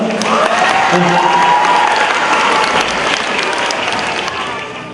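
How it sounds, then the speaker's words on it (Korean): An audience claps loudly and continuously to welcome a sand artist to the stage at a live performance event, with dense, sustained applause that fades slightly toward the end. "큰 박수로 맞이하시기 바랍니다"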